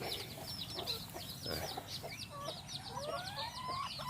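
Egg-laying hens cluck and chatter continuously nearby, a busy flock of seven with overlapping short calls against a soft background hum.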